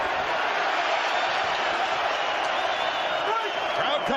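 A boxing arena crowd at Pacquiao vs Barrera roars in a sustained, loud, dense wall of cheering, while a commentator talks over it.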